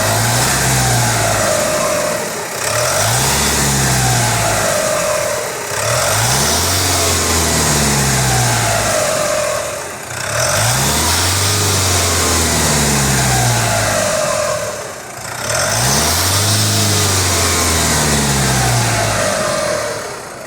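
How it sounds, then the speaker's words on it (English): A brand-new Iveco Daily van with a 2.3 HPi Euro 6 engine revs hard five times, each rise in pitch held and falling back toward idle, close and loud with no talking. "Going to rev it 5 times for you."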